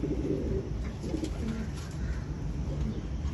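Pigeons cooing in a loft, a steady low murmur of overlapping coos that carries on without a break, close by and fairly loud against soft background noise.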